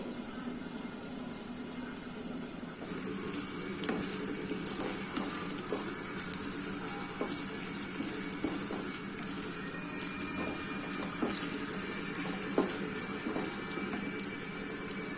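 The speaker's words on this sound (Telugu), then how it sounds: "పచ్చిమిర్చి పేస్ట్ నెయ్యి నూనెలో వేయించుకునే వరకు" Green chili paste with a little mustard seed and cumin fries in ghee and oil, a steady close sizzle dotted with small crackles and pops that carries on alone for the whole stretch.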